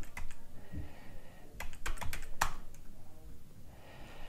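Short bursts of fingers typing a passphrase on an iPad keyboard, with irregular clicks and a quick cluster of taps near the middle, quiet and close with no talk.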